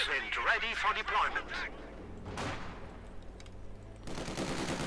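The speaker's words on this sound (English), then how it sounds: "with the mortar attack as well, it's actually making things a bit awkward here for Newton's machine guns." Rapid bursts of machine gun fire crackle in a Company of Heroes 2 battle, mixed with mortar and combat effects, heard under a commentator's continuous talking.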